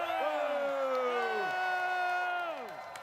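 A large crowd at a NASCAR race in Michigan cheers and whoops loudly and steadily, with a sustained roar and a few high shouts rising above it before it eases off.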